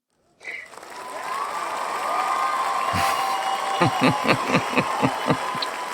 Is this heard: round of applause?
yes